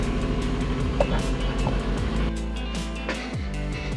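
A 1971 Chevrolet Nova engine runs steadily nearby, a continuous low rumble with a slight shift in tone partway through.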